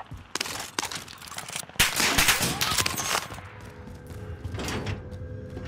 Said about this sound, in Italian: ci sparano dappertutto, raga.